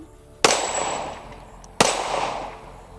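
Two sharp pistol shots from a Glock fitted with a competition trigger kit ring out about a second and a half apart, each loud and close with a short echoing tail.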